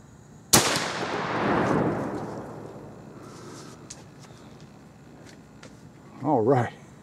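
A Thompson Center Thunder Hawk muzzleloader loaded with 100 grains of Pyrodex and a 250-grain Hornady SST bullet fires once, a sharp loud blast followed by a long rolling echo, then a brief voice near the end.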